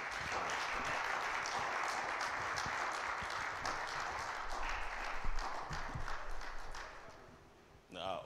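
A church congregation at an Easter seminar applauds steadily and loudly throughout, a dense wash of clapping that fades a little near the end.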